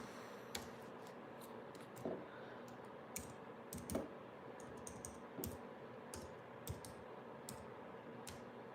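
Keys clatter on a computer keyboard in quick, irregular bursts of clicks, fairly close and moderately quiet, with no talking.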